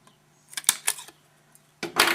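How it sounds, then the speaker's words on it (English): A paper pinwheel sheet gets a hole punched in its center, giving a few sharp, close clicks and snaps, then a louder crisp crunch near the end. "punch a hole in the center"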